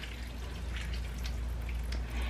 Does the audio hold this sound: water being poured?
yes